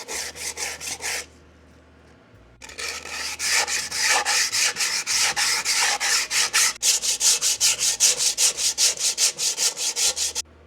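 Old seasoning being scrubbed off a cast iron pan, a steady rhythmic back-and-forth rasping close up, with a short pause near the start and continuing strokes through the end, no talking.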